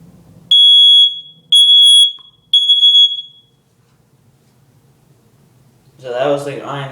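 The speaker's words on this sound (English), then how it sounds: "So that was the ionization type detector again." An ionization smoke detector shrieks in three loud, piercing beeps, each about a second long, followed by quiet and then someone talking nearby.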